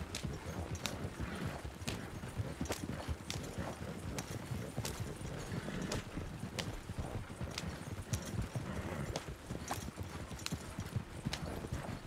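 Hooves of a horse-drawn carriage clip-clopping in Red Dead Redemption 2, a steady, even trotting rhythm of sharp hoof strikes over a low rumble of wheels, continuous and fairly quiet with no voices.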